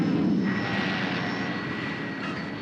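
A roaring jet-assist engine on the Batmobile in an animated Batman adventure, with a steady broadband rush that holds fairly constant, fading slightly over a couple of seconds.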